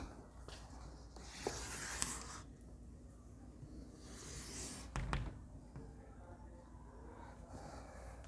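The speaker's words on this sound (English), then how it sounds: "Just simply I am drawing the rough sketches like this for our better understanding." Pencil strokes of a rough sketch for a diagonal scale drawing, soft scratching in a few short bursts against a quiet background hiss.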